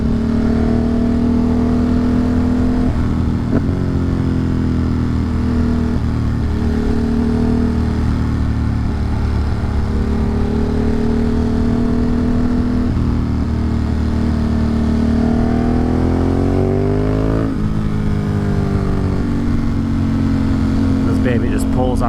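A car engine pulls hard out of corners on a winding forest road, its loud, steady hum rising and falling in pitch with each acceleration, while someone talks over the drive.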